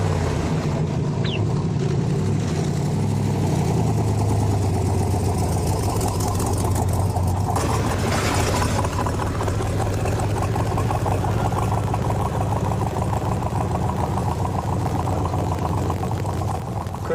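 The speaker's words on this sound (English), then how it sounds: "you turn the key, the fuel injection starts to sing, the mufflers sound" Chevrolet Corvette engine running with fuel injection and mufflers, a steady rumbling idle that holds loud and continuous, with a brief rise partway through.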